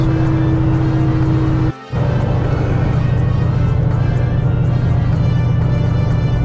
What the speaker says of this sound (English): Still enjoy driving on the back roads.